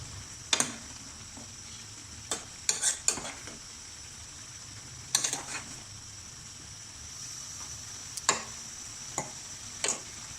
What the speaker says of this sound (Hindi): ये देखिए 5 मिनट के लिए मैंने गोभी को अच्छी तरह से भूना है।